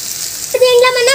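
Ginger garlic paste hits hot oil with onions already fried golden, giving a steady bright sizzle, joined halfway through by a sustained voice-like tone over the frying.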